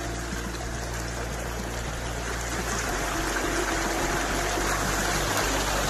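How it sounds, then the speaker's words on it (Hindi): Waterfall stream in natural Odisha countryside, a steady loud rushing and gurgling of flowing water, continuous and close with no pauses. "केते सुंदर नेचुरल साउंड झरणार जो कुळु कुळु शब्दटा"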